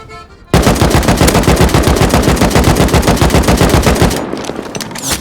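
An AK rifle firing in the video game Rust, one long, loud, rapid automatic burst of evenly spaced shots that stops abruptly, followed by a brief softer tail.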